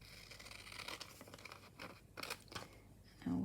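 Scissors snip and trim paper while a junk journal is being made, giving quiet, close cutting and crisp paper scratches in short bursts, with a brief louder rustle at the end.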